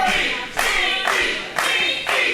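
A wrestling crowd jeers Brian Carter in loud, rhythmic chanting bursts, roughly two per second, each rising and fading in turn.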